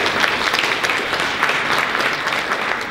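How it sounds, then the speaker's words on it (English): Steady applause from a conference audience at the 70th annual CFA conference in Philadelphia, an even, continuous crowd of clapping at moderate volume with no voices over it. "let's give a round of encouraging applause to our speakers"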